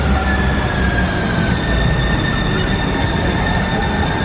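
Copenhagen's automated metro train running steadily, a continuous near rumble of wheels and car with faint tonal whine throughout, no talk.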